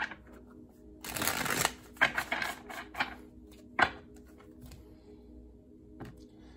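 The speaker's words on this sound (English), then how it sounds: "My last shuffle for Libra." Tarot cards are riffled and shuffled in a quick burst, followed by a few softer snaps and taps as the deck settles, close and fairly quiet.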